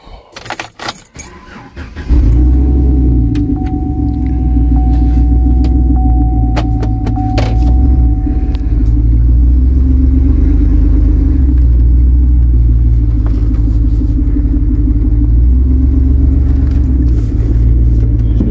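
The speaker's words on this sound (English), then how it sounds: "Jumped in the truck because I ain't walking 200 yards" Pickup truck interior at a shooting range: keys jangle and a door clunks briefly, then a steady, loud low engine rumble and road hum carry on as the truck drives, with no talk.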